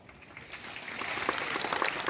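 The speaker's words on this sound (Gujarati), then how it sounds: "આ બધું તો તમારા માટે તાળીઓ છે," An audience at a ceremony honouring newly elected village sarpanches in Gandhinagar claps, the applause swelling from scattered hands into a fuller, dense roar.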